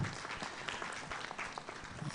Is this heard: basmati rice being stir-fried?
no